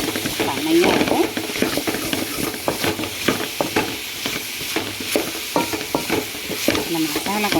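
A spiced masala of cumin, turmeric and chilli powder sizzles in a pan for a pumpkin stir-fry while a spoon stirs it, with steady frying hiss and repeated scraping strokes, close and clear.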